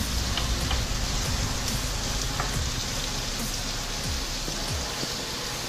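Steady crackling sizzle of food frying in a pan while cooking spaghetti all'amatriciana, continuous and fairly loud throughout, with no talking.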